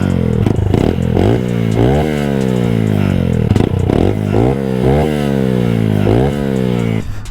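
Aftermarket exhaust on a 2023 Honda Grom motorcycle, loud and close, revving repeatedly in quick bursts that climb and fall over a steady idle burble, no talk.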